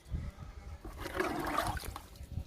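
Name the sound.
liquid fertilizer being poured onto a plant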